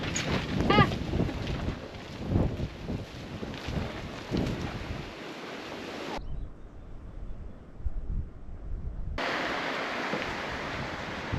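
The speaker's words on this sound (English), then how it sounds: "The weather is still crazy windy" Strong wind blows outdoors at an off-grid building site in Portugal, heavy gusty roaring and rumbling microphone buffeting that drops out briefly in the middle before returning at full strength.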